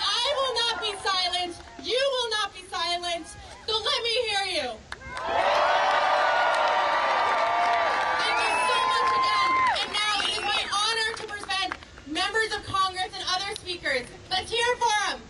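A protest crowd cheers and whoops in a sustained roar after a speaker's rally call, with amplified speech before and after the burst.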